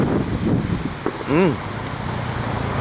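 Wind buffets the microphone outdoors along the Dipolog boulevard seaside promenade, a steady low rumble of gusts with a brief louder burst, while someone talks over it.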